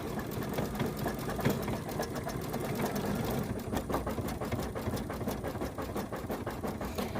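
An embroidery machine stitches a shamrock coaster in the hoop, its needle hammering in a fast, steady mechanical rhythm that stays loud and constant throughout, with no talking.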